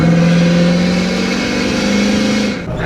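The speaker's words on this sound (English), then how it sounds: "It spools so much faster now" A loud tuned truck engine revs steadily and close, its turbo spooling with a sustained droning tone before the revs briefly dip at the end.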